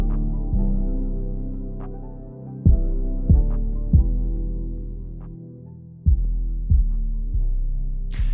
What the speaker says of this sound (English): take a high cut, and we can go over here and filter a lot of this out and really just hone in and listen to the low end of the mix